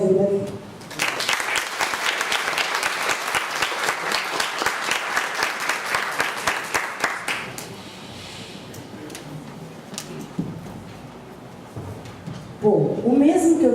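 Audience at a lecture applauds to welcome a professor, a strong burst of clapping lasting about six seconds before fading into room noise, then a voice begins speaking near the end.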